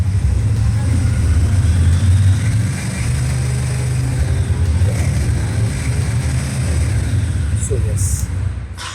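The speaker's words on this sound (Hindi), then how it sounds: "So yes, that's how the Brixton sounds." A Brixton Cromwell 1200 motorcycle, just cold-started, rumbles close by with a steady low engine note that swells slightly as it is held and revved, continuing loudly throughout.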